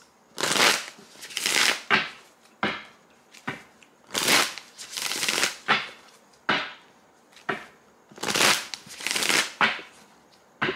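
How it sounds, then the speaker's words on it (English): Two decks of cards shuffled vigorously by hand, repeated loud riffles and sharp slaps in an uneven rhythm of bursts, close and clear, with no voices. "I'm gonna give these two decks a really good shuffle"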